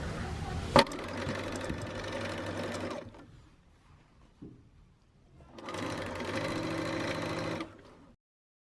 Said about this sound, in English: So I'm just going to sew all the way across with 1 inch.